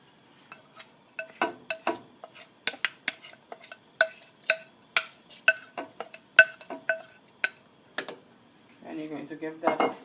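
A spoon scrapes and clinks against a pot while rice is stirred in boiling water, sharp irregular metallic taps repeating close up, followed by a soft bubbling rush at the end.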